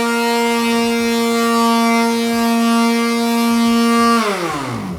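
A loud power sander runs on wood with a steady, strong, tonal motor whine that winds down in pitch as it stops at the end.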